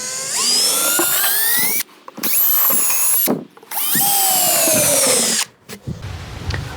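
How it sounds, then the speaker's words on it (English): A stepped drill bit bores holes into a container, the power drill whining in three long bursts with short pauses between them, loud and close with no talking. "and then I can drill all these 4 holes"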